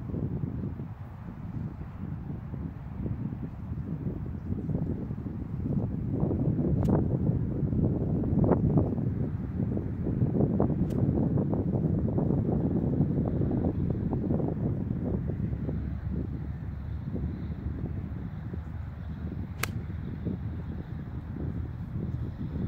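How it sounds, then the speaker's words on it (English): Wind blows across an open golf course in a steady rumbling buffet against the microphone, with gusts rising and falling over about twenty seconds. No voices are heard. "Definitely a right to left wind."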